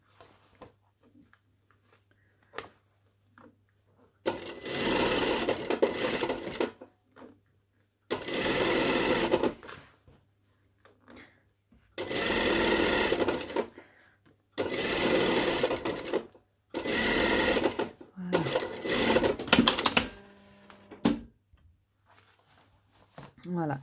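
A sewing machine stitches the lining onto a jacket sleeve hem with piping, in a series of close, rapid whirring bursts of several seconds each. Someone speaks in the pauses between runs.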